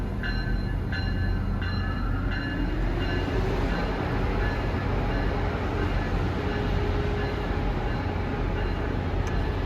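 A GP40PH-3 diesel locomotive pulls a Metro-North train out of New Haven station toward Boston, a loud, steady rumble of engine and rolling cars with a few faint high tonal clicks early on.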